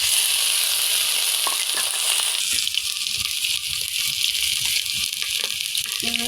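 Shrimp fry in hot oil in a wok-like kadai, giving a steady, close, crackling sizzle with a few soft clinks of stirring throughout.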